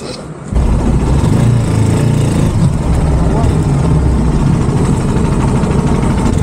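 A motorbike parked near an SBI bank parking lot at night in Rishikesh runs steadily with a loud, continuous engine rumble throughout, under low street noise.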